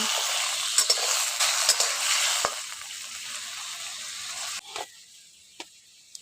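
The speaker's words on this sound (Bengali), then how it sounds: "আলুগুলোকে একটু লাল লাল করে ভেজে নেব" Potatoes fry in oil with a loud, hissing sizzle and a few scraping stirs, and the frying noise drops sharply toward a quieter bubble near the end.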